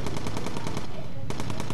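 Rapid machine gun fire from a bomber's turret in the video game Bomber Crew, loud and continuous, with a short dip in the middle before the bursts resume.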